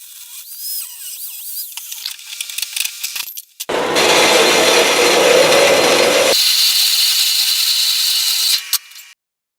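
A power tool cuts through a discarded metal bed frame picked up from the roadside, a loud steady grinding whine lasting several seconds after some lighter clanking and handling noises, then cutting off abruptly.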